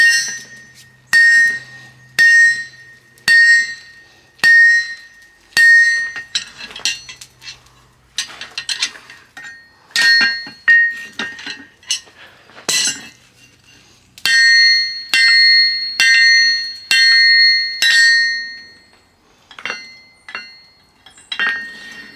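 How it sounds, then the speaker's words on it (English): A hammer forges a metal war hammer on an anvil, sending loud ringing blows in rhythmic bursts of several strikes with short pauses between groups. Each strike rings bright and metallic. "I still got some forging to do"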